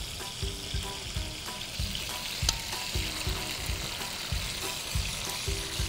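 Chicken thighs frying in a pan give a constant sizzle, stirred with a repeated, rhythmic scraping beat, close and steady with no voices.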